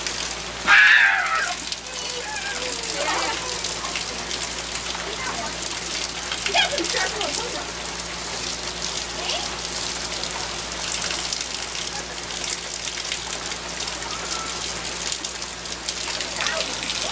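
Steady rain falls outdoors while children play in it, a constant hiss under the talk of people nearby, with a brief louder splash near the start.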